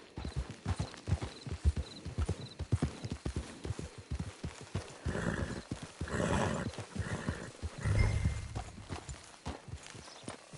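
Horse hooves clip-clop steadily in Red Dead Redemption 2 online, a quick rhythmic series of close, sharp thuds over a soft ambient bed, with a brief neigh or snort near the end.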